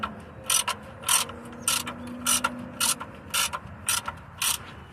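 A ratchet wrench loosens bolts on a Chevrolet Impala transmission, giving a steady run of about nine quick, even clicking bursts, close up, with a faint hum underneath and no talk.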